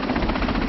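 A HAL-built Advanced Light Helicopter gives a brief, loud, steady rotor and engine drone, heard close and without any voices.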